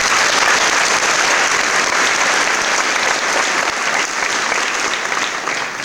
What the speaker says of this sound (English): So give them a round of applause.